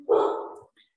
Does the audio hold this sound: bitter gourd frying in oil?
no